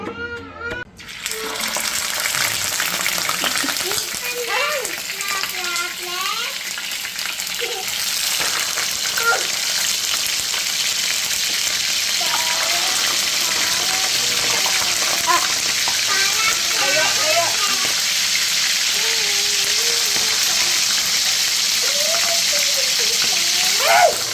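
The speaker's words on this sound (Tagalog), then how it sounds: "So, piprito lang natin yan." Sliced bangus (milkfish) fries in a pan with a steady, loud sizzle and spatter throughout, a voice speaking intermittently over the crackling oil.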